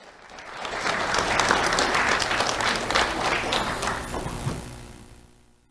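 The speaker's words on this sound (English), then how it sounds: "Let's have a round of applause for David Wong" An audience at a Do The Right Thing awards ceremony applauds award recipient David Wong; the clapping swells, holds steady for a few seconds, then tapers away.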